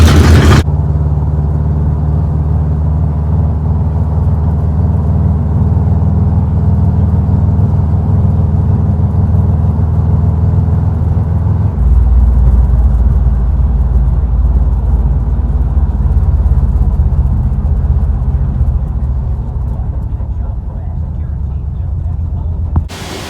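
A rebuilt 1968 Chevrolet El Camino on its first test drive, its engine droning steadily and loud from inside the cab, with a deeper, heavier rumble as the load shifts about halfway through.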